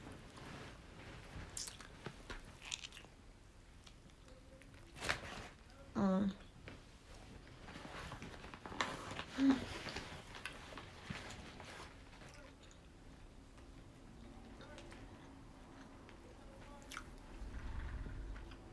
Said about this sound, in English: I'm about to bite mine.